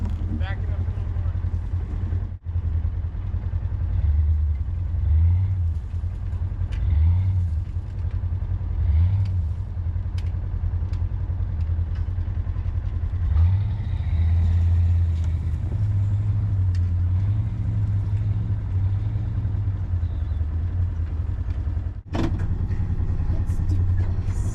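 A motorhome engine rumbles low and steady while the vehicle reverses slowly, with the throttle swelling and easing in uneven waves over about twenty-five seconds and two brief dips in sound.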